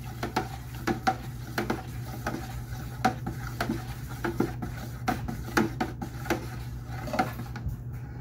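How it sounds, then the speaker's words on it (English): Apricot wine must is stirred in a container, giving a regular series of soft knocks and scrapes roughly every half second over a low steady hum. "Just dump that down in there. And we'll give it a stir."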